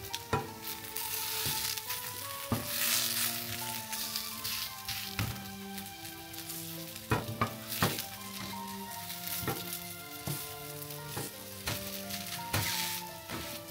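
Onion slices frying in oil in a pan, a steady crackling sizzle with sharp pops and spits scattered throughout, close and fairly loud, with faint background music tones and no talking.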